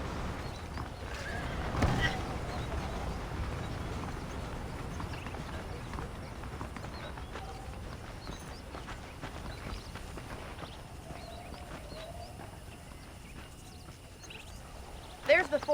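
Horse hooves clip-clop in the video game Red Dead Redemption, with a horse neighing among steady hoofbeats and ambient outdoor noise while characters talk over them.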